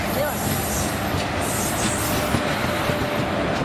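Passenger train on rails, crowded, heard in a played-back video: a steady rumble with clattering wheels and faint squeals, fairly loud and continuous throughout.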